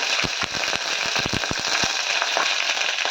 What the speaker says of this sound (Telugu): పోపు వేగింది కరివేపాకు వేసాము